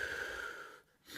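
Forceful rapid breathing from a breath of fire, or dragon's breath, exercise: a close, steady rush of airy breath that cuts off abruptly near the end and then resumes.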